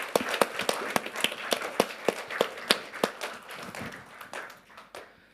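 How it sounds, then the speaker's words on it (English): Sparse, uneven clapping from a small group, distinct individual claps fading out toward the end, no voices. "give yourselves a round of applause"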